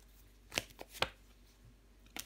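Tarot cards are handled and laid out on a table, giving two crisp slaps and a few softer flicks and rustles in a short quiet spell.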